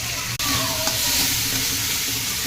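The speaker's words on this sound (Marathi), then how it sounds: "त्यामुळे चांगली भाजून घ्यायचा मसाला" Masala for a quick liver curry roasting in a hot pan, a loud, close, continuous sizzle and hiss with brief scraping stirs and short breaks in the frying.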